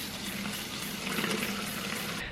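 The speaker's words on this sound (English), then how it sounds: "Alright, it's time to fill this bottle up and test it. There we go, just put some water in it." Water pours steadily into a plastic bottle for a drip irrigation setup, a continuous hissing splash with a faint low tone filling the whole stretch without talk.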